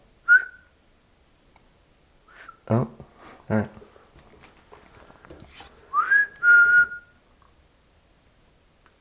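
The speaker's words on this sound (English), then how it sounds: "I heard like a whistle back there." Short whistles, one early and a longer rising one later, sound from upstairs in a quiet museum, with a couple of knocks and people talking between them.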